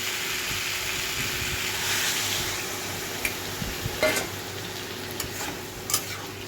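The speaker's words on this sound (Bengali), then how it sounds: "একটু জিরে গুঁড়ো একটু ধনে গুঁড়ো দিয়ে এটা ভালো করে মশলাটা সাথে মাখিয়ে নিচ্ছি" Ground cumin and coriander fry with chili in a pan as the spices are stirred and coated. A steady sizzle sits under a few sharp scrapes and knocks of the spoon, close and fairly loud, with no talking.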